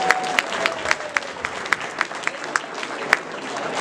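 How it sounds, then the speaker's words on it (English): Applause at an anniversary party gathering, with distinct individual claps standing out sharply in a rhythmic pattern over a crowd's clapping, close and lively, with no talk. "Tom, get a big round of applause for him here."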